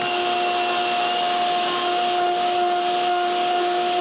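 A router recutting a wooden idler roller for an edge sander runs at a steady, loud, continuous whine with a constant pitched hum and no breaks or talk.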